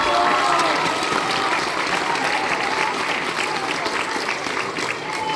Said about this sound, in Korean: 지금 이 박수는 가장 절절한 박수로 들렸습니다